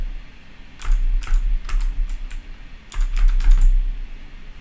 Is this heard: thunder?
no